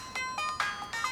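Festive phone ringtone playing a bright, bell-like melody of short tonal notes, repeated in a few quick bursts, fairly quiet and with no talking over it.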